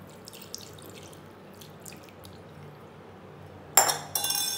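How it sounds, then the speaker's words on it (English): Water splashes into a drain treated with Harpic Drain Xpert, a brief gush arriving near the end after faint drips and quiet background. "Now pour a cup of water"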